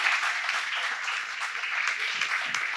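Audience applause at a film festival discussion panel, dense steady clapping from a crowd, sustained and fairly loud throughout.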